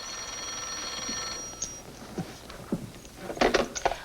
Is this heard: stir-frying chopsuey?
no